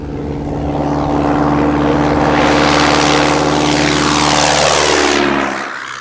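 A Piper Cub light propeller airplane, a 1930s–1950s trainer, drones loudly and steadily with a strong engine hum, swelling as it passes close by and then dropping away abruptly at the end.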